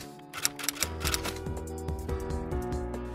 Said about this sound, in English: just like that you have a typewriter effect